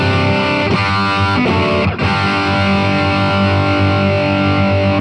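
An electric guitar through a Blackstar LT series drive pedal plays a few sustained, gritty chords up close, ringing out thick and loud.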